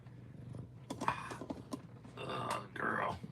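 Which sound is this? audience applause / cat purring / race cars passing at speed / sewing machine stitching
cat purring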